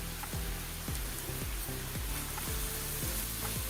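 Onion, tomato, turmeric and chili sauté in a pan for a Maharashtrian kulith pithla, sending up a dense, continuous sizzle close by, broken by repeated stirring scrapes in an uneven rhythm.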